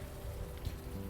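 Steady rain falls at night in the adventure game Unavowed, a dense continuous patter on surfaces that holds at an even moderate level with no other sounds.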